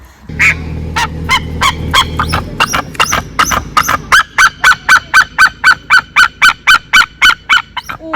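A loud, honking bird call repeats in a steady rhythm of many sharp calls, close to the microphone, with a low rumble underneath at first, at a predator park.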